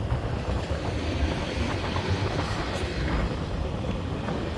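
A train rolls past in suburban Indiana, a loud sustained rumble of wheels and cars with a steady rhythmic clatter throughout, close by and with no talk over it.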